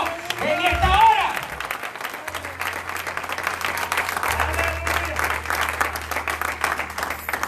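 A church congregation claps in a dense, continuous wash of applause after a sung or shouted phrase, with a low steady hum underneath and voices blending into the clapping.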